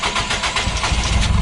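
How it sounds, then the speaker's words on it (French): A 300 horsepower engine hot-starts and runs with a loud, rough, close rumble, dense and continuous through the short burst. "Démarrage à chaud maintenant du coup."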